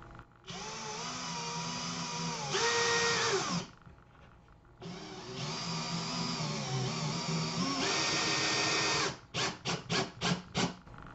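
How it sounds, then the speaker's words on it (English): A power drill drives a screw into a small pilot hole in two long, loud, steady whirring runs whose pitch drops under load, then a rapid series of short trigger bursts to seat it flush, close up and with no talk. "So we're going to take our screw, line it up with our little pilot hole, and go in."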